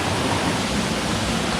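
A small waterfall near a ruined mill pours in a steady, broadband rush, close and even, with no other sounds over it.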